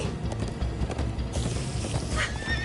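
Horses in the video game Minecraft Story Mode gallop with steady, clattering hoofbeats over a busy rumbling background, and a whinny rises near the end.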